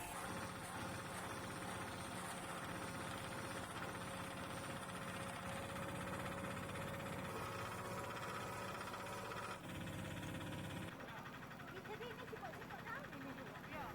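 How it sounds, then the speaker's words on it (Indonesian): A special machine processing pineapple leaves into fine fibre runs with a steady, loud mechanical drone and rattling hum that continues without a break, shifting slightly in tone near the end. "daun nanas yang sudah dipilih dimasukkan ke dalam mesin khusus."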